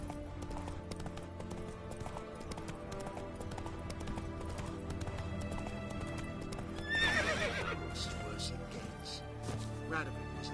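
A horse's hooves clip-clop at a trot in The Witcher 3, a steady rhythmic clatter at close range, with a whinny partway through and game dialogue and speech over it.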